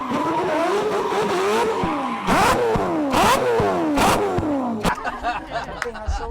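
A Mazda RX7 with a rotary engine revs hard through repeated rising and falling sweeps, loud and close, with sharp bursts and crackles between revs and a crowd-like background.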